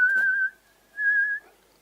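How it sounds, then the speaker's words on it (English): A man whistles two clear, sustained notes with a short pause between them, close and fairly loud in a quiet room. "It's my dad whistling."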